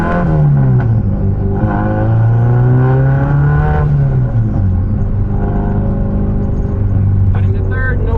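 An all-wheel-drive Honda Accord with a replacement transmission and a hybrid racing shifter rumbles loudly from inside the cabin, its engine note rising and falling as it pulls away and changes gear, with someone speaking over it.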